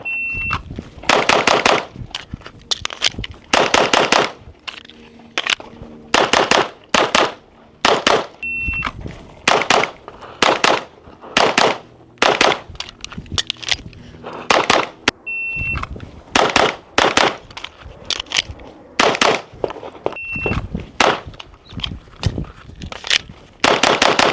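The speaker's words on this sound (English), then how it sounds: "Let's cut to a montage of us shooting and a bunch of action shots" Rapid bursts of gunfire from a Sig Sauer P322 .22 rimfire pistol, strings of quick loud shots separated by short pauses, repeating steadily through an outdoor shooting session with a faint electronic beep between some strings.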